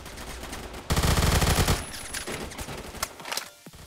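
Rapid automatic fire from a Vector submachine gun in the Roblox game Phantom Forces, a loud dense burst followed by scattered quieter shots and game effects, with no talking.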